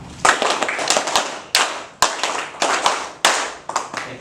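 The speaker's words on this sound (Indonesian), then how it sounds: "Tepuk Pancasila" A standing group performs the Tepuk Pancasila rhythmic clap, bursts of loud unison clapping in a set pattern, punctuated by single sharp claps and brief pauses.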